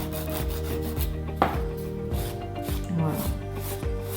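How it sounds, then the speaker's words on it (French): A nail file rasps back and forth over gel nail polish to remove the leftover gel, a steady close scraping rhythm with one brief spoken word. "Je vais finir par la lime."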